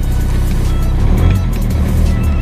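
A salvage Audi TT that sat unused for about two weeks, its engine running steadily after a first-time start, a continuous low rumble up close with no talking.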